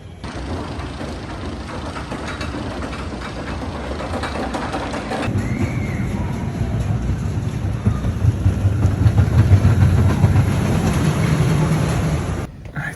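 Mine Train roller coaster at Six Flags Great Adventure running nearly empty, a loud steady rumble of wheels on track with mechanical rattling that builds midway and cuts off near the end, heard at close range.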